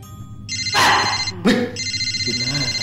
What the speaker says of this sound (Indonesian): Coba liat telepon Gentok.